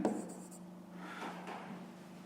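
Pen or pencil writing numbers by hand on paper, a short soft scratchy stroke burst close up, quiet and alone.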